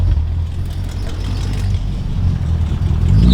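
A BMW E38 sedan, freshly built, runs with a steady, loud engine rumble that swells slightly toward the end, close by and with no talk over it.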